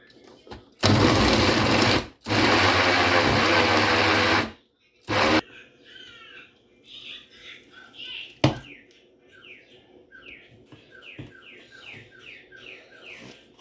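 An electric meat grinder mincing chicken for hamburgers whirs in three loud, close bursts, two long and one short, then cuts out, leaving quieter background sounds and faint chirps.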